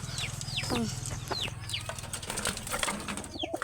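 Pigeons call in a busy flock, with repeated short chirping and clucking bird sounds and some fluttering, at moderate loudness and close by.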